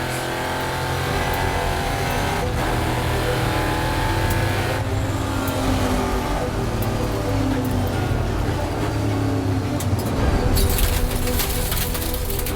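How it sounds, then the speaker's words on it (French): Race cars roaring at a restart after several laps under yellow, a steady dense engine drone with cars passing throughout, loud and continuous. "Après quelques tours sur le jaune pour ramasser les dégâts, c'est la relance."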